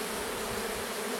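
A small leftover cluster of honeybees from a mini swarm buzzes around a Japanese hive, a steady, dense insect drone filling the whole moment without any voices.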